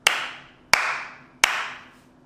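Three sharp, evenly spaced hand claps about 0.7 seconds apart, close and loud with a short room ring after each, used to trigger a 1980s Clapper sound-activated light switch.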